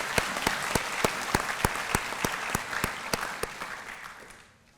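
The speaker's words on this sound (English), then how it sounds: "so give him a round of applause, please." Audience at a police academy graduation ceremony applauds, a broad wash of crowd clapping punctuated by sharp, regular nearby claps, holding steady before fading out at the end.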